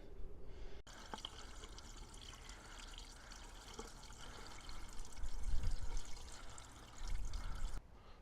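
Screen wash poured into a car's washer fluid reservoir, a steady close splashing gush that swells louder toward the end before cutting off.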